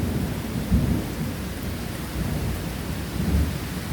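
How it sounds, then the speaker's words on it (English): Heavy summer thunderstorm downpour, a dense, steady roar of rain drumming close by with low rumbling swells, no voices. "that's rain in the background, you can hear it. It's just downpouring."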